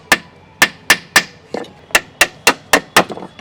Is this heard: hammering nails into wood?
yes